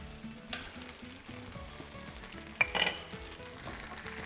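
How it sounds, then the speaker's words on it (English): An egg cooking over easy in a hot pan gives a soft, steady sizzle with a couple of brief clatters, heard close and alone. "I'm just going to make this egg, put it in this hot pan here, and give that a minute to cook"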